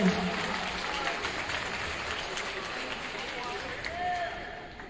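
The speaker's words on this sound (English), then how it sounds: "one big round of applause for having me back here today" A school assembly crowd of students claps for the teachers and staff, a broad, fairly faint wash of applause mixed with murmuring voices.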